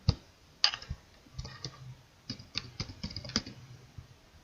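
Keys on a computer keyboard are tapped in short irregular bursts while entering variable names in SPSS, light close clicks with pauses between them and no talk.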